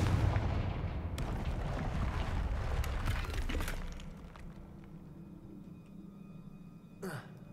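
Confringo blasting spell in Hogwarts Legacy: a loud booming blast that rumbles and decays over several seconds, followed by quieter game ambience and a brief sharp sound near the end.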